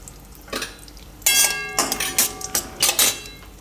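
Almonds poured into melted ghee in a pan for a Gujarati sweet, a run of bright metallic clinks and rattles as the nuts strike the pan, close and fairly loud, without talk.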